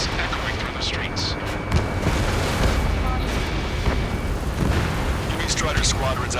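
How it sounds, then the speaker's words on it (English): Gunfire, heavy booms and jet roar from the Ace Combat 7 combat game fill a city at night under martial law in a dense, continuous wall of noise. Muffled voices or radio chatter sit faintly beneath the barrage. "Gunfire and the roar of jets echoing through the streets."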